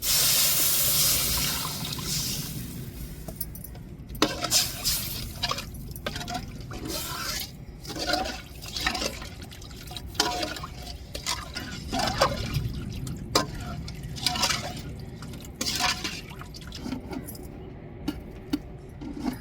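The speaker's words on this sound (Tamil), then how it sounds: "இப்போ புளி கரைச்சி வச்சுருக்கேன் புளியை சேர்த்துக்கிடுவோம்" Dissolved tamarind water pours into a pot of sala fish curry, a close trickling and splashing of liquid broken by light clinks and drips, with no voices.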